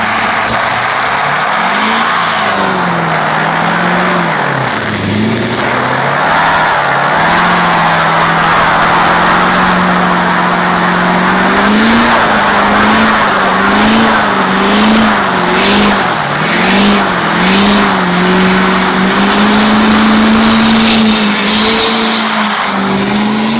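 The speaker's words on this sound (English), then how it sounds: "We're gonna go lay a heater to even out the cupping of the tires" A Mercedes S400 dually truck on 26-inch wheels does a long, loud tire burnout, the engine roaring and wavering in pitch under steady squealing tire hiss, with no one talking.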